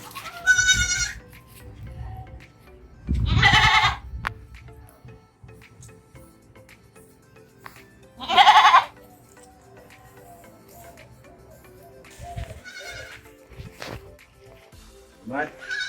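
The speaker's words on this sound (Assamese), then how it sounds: "মোৰ যিটো ডাঙৰ বিটল ছাগলীটো আছে সেইটো আপোনালোকক মই দেখাব" Beetal goats bleat in a farm setting, several loud separate calls spaced out over quiet stretches, with some fainter bleats and background noise between them.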